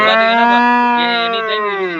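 A single long, loud bovine moo with a rich harmonic tone holds steadily for about two seconds at a cattle market in Anthiyur, close to the microphone and heard on its own.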